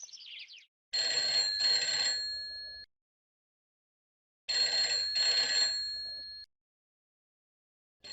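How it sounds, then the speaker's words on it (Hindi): An electronic home landline telephone rings in two bursts of double trills, each pair separated by a pause, loud and close with no talking. "फोन बज रहा था"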